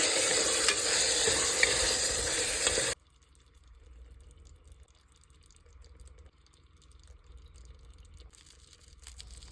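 Onions frying with garam masala in a pan give a loud, close sizzle and stirring for about three seconds, then it cuts to quiet, faint kitchen noise.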